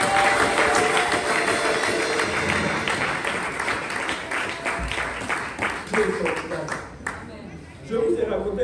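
A church congregation applauds during a French-language worship service honoring the Good Shepherd, steady broadband clapping running the whole stretch, with voices and cheers mixed in and a brief lull near the end before it swells again.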